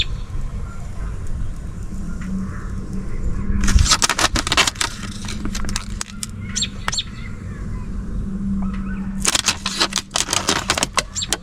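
Window tint film being peeled and ripped off a car windshield in a DIY removal, giving bursts of crackling, tearing noise over steady background hum with faint chirping.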